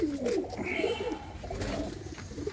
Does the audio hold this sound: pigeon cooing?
yes